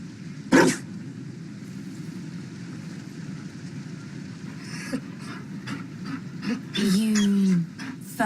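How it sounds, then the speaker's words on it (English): A Mabari war dog in the video game Dragon Age: Inquisition, with a few faint barks against a low rumbling ambience, then a louder, drawn-out bark or whine near the end. "You found a dog?"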